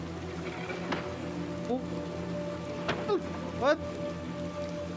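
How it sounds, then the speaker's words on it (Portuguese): Rain falls steadily in the video game Little Nightmares II, a dense hiss of drops beneath scattered game effects and a few brief, faint sliding tones, with a short spoken exclamation. "Bem, vamos tentar sair desta chuva."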